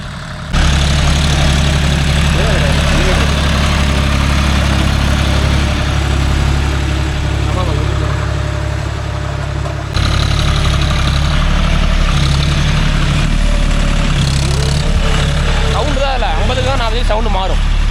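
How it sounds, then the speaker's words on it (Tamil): A John Deere 5045D 4WD tractor engine runs steadily with a deep, loud, constant drone while pulling a nine-tine cultivator. Voices talk over it now and then. "இன்ஜின் சவுண்டா."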